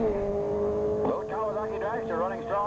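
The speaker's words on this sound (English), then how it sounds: "Little Kawasaki dragster running strong on the big end." Drag racing cars pass at the finish of a 1985 drag strip run, a small Kawasaki dragster among them, with engine tones rising and sweeping over a steady background drone while an announcer talks.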